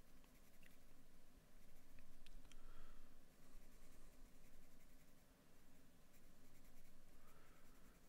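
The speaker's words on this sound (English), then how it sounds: "Let me get in there with the B pencil really quick." A B pencil sketching misty mountains on paper gives soft, continuous scratching and hatching strokes, close and quiet, with short pauses between bursts of quick lines.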